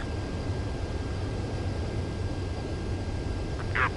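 A fighter jet's steady engine roar on final approach to a runway in the video game Ace Combat 7, a continuous broad rumble and hiss at even loudness, with a brief faint tone near the end.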